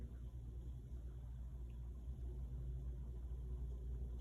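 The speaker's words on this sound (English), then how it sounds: "Here comes a really loud fucking car." A loud car passes close by, a steady low engine rumble holding strong throughout with no talk over it.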